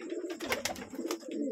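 Low, throaty pigeon cooing from a small home loft, close and moderately loud, with a few brief clicks and rustles mixed in and no talking.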